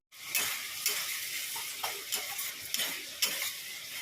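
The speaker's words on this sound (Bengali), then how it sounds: "ডিম সোয়াবিনের জন্য মশলাটা কষাচ্ছি খুব ভালো করে" A spatula stirs and scrapes spice paste of onion, garlic and green chilli as it sautés in a pan for an egg and soybean curry, with a steady sizzle and repeated scraping strokes close by.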